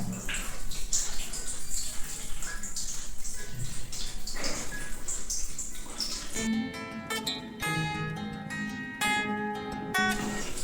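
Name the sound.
washing face with water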